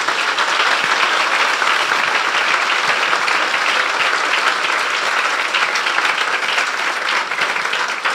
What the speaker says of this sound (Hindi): आपकी यस्सु के लिए जोरदार तालियां।